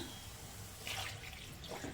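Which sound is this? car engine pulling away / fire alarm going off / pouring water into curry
pouring water into curry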